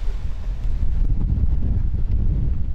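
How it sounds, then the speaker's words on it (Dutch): Strong wind buffeting outdoors, a loud, continuous low roar with gusty swells and no voices. "Wat een wind, hè?"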